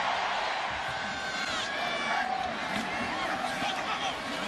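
Stadium crowd at a USC vs Oregon college football game in 2005, a loud, steady wash of cheering and roaring that keeps going under a play-by-play voice.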